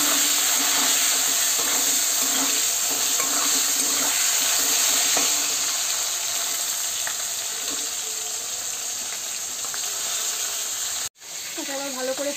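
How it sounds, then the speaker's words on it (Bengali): Taro frying in a pan over a village kitchen fire gives a steady hiss and sizzle throughout, with faint scraping and a brief sharp break near the end; someone talks quietly at times. "এটা আবার ভালো করে ভেজে নিই।"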